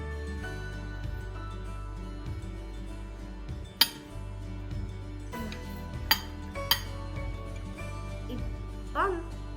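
Utensil clinks and scraping as fruit salad seasoned with chaat masala is stirred in a bowl, with a few sharper clanks standing out against a steady background and voices speaking.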